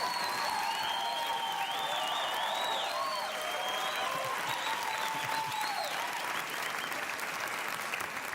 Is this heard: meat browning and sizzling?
no